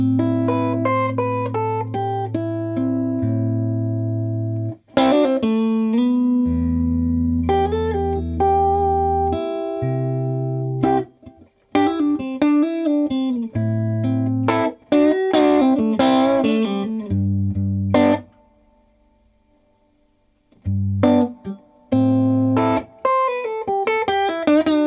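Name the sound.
clean electric guitar through Milkman Half Pint amp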